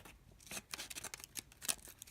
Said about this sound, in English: Last thing is it has a pair of scissors. And believe it or not, these are actually pretty good.